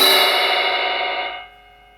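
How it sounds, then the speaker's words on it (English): A drum cymbal struck once on the bell rings out with a bright, tonal metallic sustain that decays smoothly and fades over about a second and a half. "the bell tends to have a much more tonal sound"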